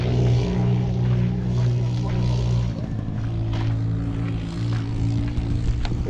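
An automatic motorbike engine runs steadily close by, a loud continuous drone with a strong low hum that barely varies, with a voice briefly speaking over it.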